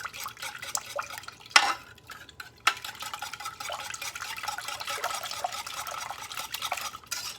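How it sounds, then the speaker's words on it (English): Egg yolks and milk being whisked in a pot on the stove for homemade German chocolate cake icing: steady close scraping and stirring, broken by a couple of sharper clanks against the pot early on. "we're going to cook this over the stove until it's well cooked, and whisk the egg yolks in with your milk"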